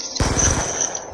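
Rapid automatic gunfire in Call of Duty Black Ops 2, Gun Game mode on the Raid map: a loud, close burst of quick repeated shots that rings out over a sustained high tone.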